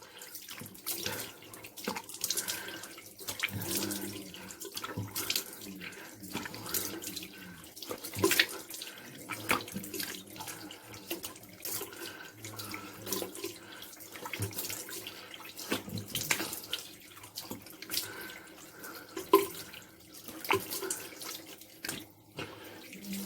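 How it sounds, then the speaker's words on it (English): Tap water runs steadily into a sink, with splashing and irregular bursts as hands rinse a face under the cold stream, close by and continuous. "rinse it again with cold water"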